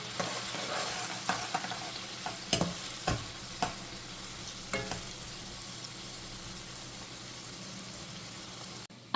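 Finely chopped large onion frying in oil for chicken kaju masala, a soft continuous sizzle broken by several sharp spoon taps and stirring clatters against the pan.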